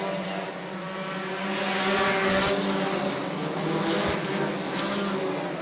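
Race cars roar past at speed on a short oval at Screven Motor Speedway during a Winter Freeze event, a loud, continuous engine howl swelling and fading as several cars go by together, with no talking.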